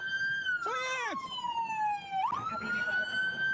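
A police siren sounds in bodycam footage, steady and loud, with a wailing tone that dips then sweeps back up, and a brief higher yelp partway through, over a constant background rumble.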